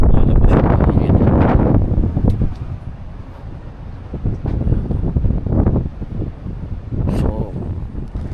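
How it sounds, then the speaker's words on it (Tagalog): Strong cold wind blasts across the microphone outdoors beside a transport truck, a loud continuous rumble that rises and falls in gusts, with a voice speaking at moments under the roar. "malakas kasi hangin."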